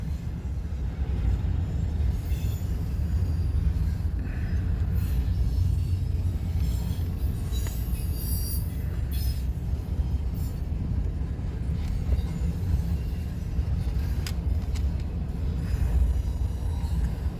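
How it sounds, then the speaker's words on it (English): An eastbound freight train loaded with 40-foot container boxes in its well cars rolls past at Fremont, Nebraska, on the Blair subdivision, a steady, continuous low rumble of wheels and cars that holds at an even loudness throughout. "it's a lot of 40-foot boxes on this train"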